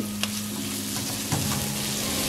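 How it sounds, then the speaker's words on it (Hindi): Large onion cubes fry in about 100 grams of oil in a pan, giving a steady close crackling sizzle throughout with a couple of faint stirring clinks. "उसके अंदर डाल देंगे एक बड़े साइज का क्यूब्स में कट करके प्याज। डालने के बाद अच्छी तरह करेंगे फ्राई।"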